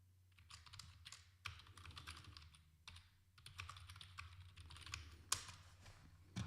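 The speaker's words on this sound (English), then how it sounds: "I don't know if you can hear me typing, but I was typing in our Discord" Quiet typing on a computer keyboard in bursts of soft, rapid key clicks separated by short pauses, with a low steady hum underneath.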